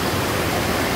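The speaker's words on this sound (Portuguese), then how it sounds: "Eu acredito que eu tô em cima da cachoeira." Waterfall in Tupi-Guarani Indigenous lands rushing over rocks, a dense, even roar of falling water heard from close above it, steady and loud with no voices.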